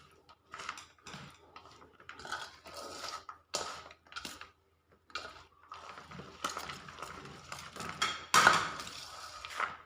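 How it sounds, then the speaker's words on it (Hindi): A spoon scrapes and clinks in a pot while ingredients for peanut panjiri, including flour, are mixed together, giving soft, uneven stirring and tapping sounds that are close and fairly quiet, with no talking. "सारी चीज़ों को अच्छी तरह मिक्स कर लेंगे।"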